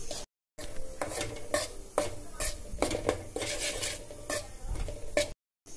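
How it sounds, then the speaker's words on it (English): Wheat flour halwa with ghee is stirred in a pan over a low flame, a spoon scraping the metal in steady repeated strokes with a soft sizzle underneath, close and continuous apart from two brief silent gaps. "Now stir it again. For about 5 minutes in low flame."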